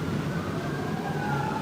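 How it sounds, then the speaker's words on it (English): Emergency vehicle sirens, such as fire trucks and ambulances, wail steadily in the distance behind a continuous low rumble of city traffic. "Sirens are going all the time."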